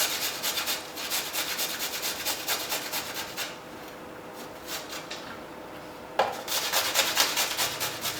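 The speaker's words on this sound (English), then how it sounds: "We're just going to grate that garlic into a nice paste." Peeled garlic is grated on the fine side of a metal grater in a home kitchen, quick rhythmic rasping strokes that stop briefly in the middle, then resume close and crisp.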